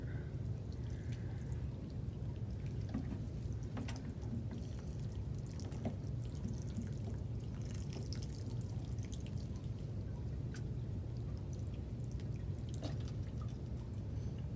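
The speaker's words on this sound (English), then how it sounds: "And then add some water." Water trickles and drips in a steady low wash for several seconds, faint and close, with scattered small splashes and no voices.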